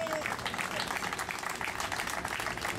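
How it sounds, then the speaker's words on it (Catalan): An audience breaks into a big round of applause at a talk in Lleida, a continuous crackle of many hands clapping, fairly distant and held at an even level the whole time. "un aplaudiment enorme"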